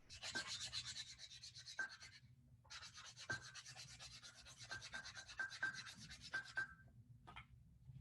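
Quiet rubbing with 220 grit sandpaper to clean and even a jewelry-making tool surface: two long stretches of steady fine scratching strokes, separated by a short pause, with faint clicks and no voices.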